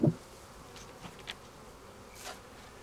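Honeybees at a hive give off a faint, low, steady buzz in the background, with a few soft knocks and no voices.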